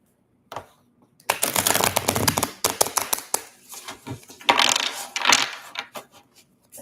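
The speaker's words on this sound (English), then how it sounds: "I'm going to shuffle this deck." A deck of cards riffled and bridged in quick bursts, crisp fluttering clicks rising and falling over several seconds, close up with no talk.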